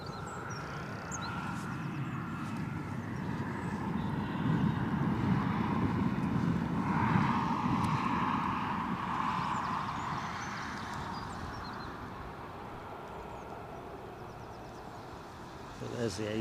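Airbus A321 airliner departing Newcastle Airport in snowy, windy crosswind weather, a broad engine rumble swelling to a peak midway and then easing off at a distance, with faint talk over it.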